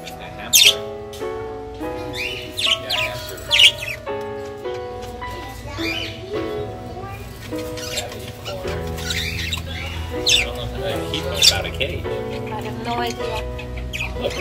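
Parakeets in a pet store cage chirp and squawk in quick, bright bursts, some sharp and close, over a busy background with people talking throughout.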